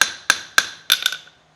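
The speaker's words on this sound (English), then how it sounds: "use the hammer to forge it" A blacksmith's hammer striking heated Japanese knife steel on an anvil, four sharp ringing blows at an even pace followed by a couple of lighter taps, each leaving a bright metallic ring.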